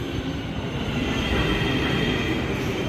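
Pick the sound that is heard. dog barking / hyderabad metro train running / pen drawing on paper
hyderabad metro train running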